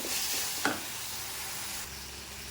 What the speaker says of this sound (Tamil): ரெண்டு கருவேப்பிலை போட்டுக்கிறேன் அதையுமே சேர்த்து வதக்கிக்கலாம்